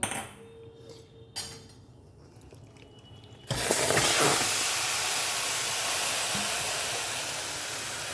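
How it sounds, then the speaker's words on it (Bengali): Soft clinks in a quiet kitchen, then a sudden loud sizzle as chicken hits a hot pan of fried spices for an oil-free curry, hissing steadily and slowly easing off. "এবার আমি চিকেনটা এর মধ্যে অ্যাড করে দেবো"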